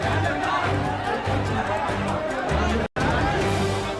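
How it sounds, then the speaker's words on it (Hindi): Dense crowd commotion on a street at night in the Jama Masjid area of Alirajpur, with overlapping shouting voices and steady loud babble that cuts out for a split second near the end before resuming. "चारों लोगों की भीड़ है।"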